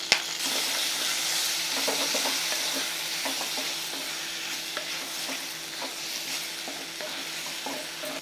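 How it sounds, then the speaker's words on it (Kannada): Chopped spinach (palak) frying in a pan, a soft, steady sizzle near at hand with repeated scraping and clinking stirs of a utensil against the pan, heard alone with no voices. "ಅಷ್ಟು ಪಾಲಕ್ ಸೊಪ್ಪು ಹಾಕಿ ಇದನ್ನು ನಾನು ಫ್ರೈ ಮಾಡ್ತೀನಿ"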